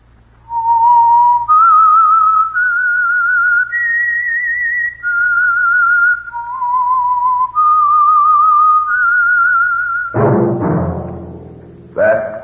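A clear, loud whistled tune of sustained, stepping notes plays alone as the signal melody for The Whistler radio drama, then ends in a brief burst of noise.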